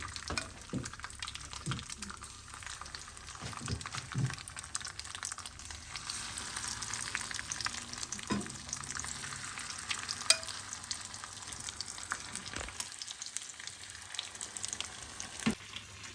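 Chicken pieces fry in a pan for butter chicken, a quiet continuous sizzle broken by occasional clinks and stirring knocks, with no one speaking.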